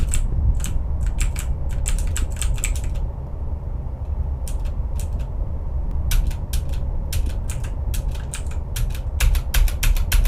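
A computer keyboard's Enter key is pressed over and over during an Ao Oni horror game, giving loud, close, rapid clicks in bursts. There is a short pause, then the fast clicking starts again over a low steady hum.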